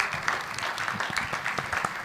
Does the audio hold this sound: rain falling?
no